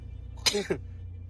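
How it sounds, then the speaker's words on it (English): A single quick sneeze, fairly close, with a short sharp burst and a softer follow-up, over a low steady hum. "the first time I sneezed today"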